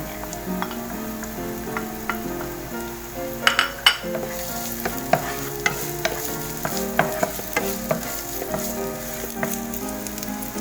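Garlic and ginger fry in a pan for a homemade beef pares, giving a steady sizzle broken by scattered pops and clinks as the ingredients are stirred, close and with no talking.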